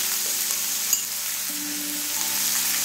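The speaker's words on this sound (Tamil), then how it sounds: "வெங்காயம் போட்டிருக்கோம் இல்லையா, கொஞ்சம் நேரம் வதங்கணும் வெங்காயம்." Chopped onions sautéing in a pan for thavalai adai, a continuous bright sizzle with a soft scrape or two, close, loud and steady, with no voices.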